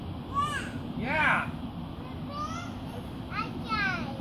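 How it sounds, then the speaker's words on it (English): Birds high in the sky give a series of harsh, scratchy caws in short bursts, spread across the stretch at a moderate distance, while children's voices and chatter can be heard around them. "Is that because the birds are up in the air?"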